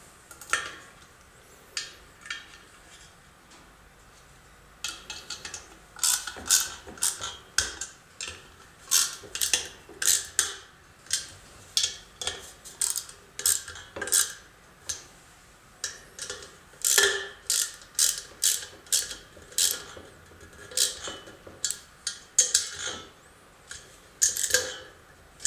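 Screws being tightened back down on a Casablanca Intelitouch ceiling fan: a long series of sharp, close clicks and ratcheting ticks in irregular bursts, alone with no talk.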